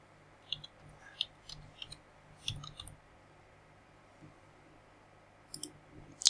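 Computer mouse clicks sound while components are selected in DWSIM chemical process simulation software, a handful of sharp, quiet single clicks spaced irregularly over a faint room hum.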